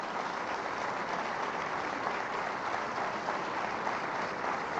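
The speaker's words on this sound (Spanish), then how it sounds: "Vamos a darle un aplauso." Sustained audience applause at a televised government broadcast in Venezuela, an even wash of many hands clapping at moderate distance, continuing without speech for about five seconds.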